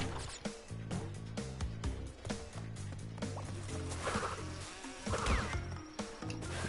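Insect buzzing drones within Crash Bandicoot N-Sane Trilogy game audio, sitting low in a dense mix of continuous music and game effects throughout.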